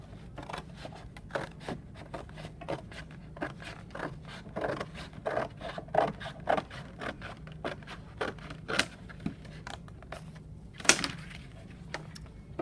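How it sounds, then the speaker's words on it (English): Scissors snip and scrape through a cardboard box panel along its crease lines, a steady series of short, close crunching cuts with soft handling noises between them. "I'm going to go ahead and cut along here so I have one big panel that I could work with"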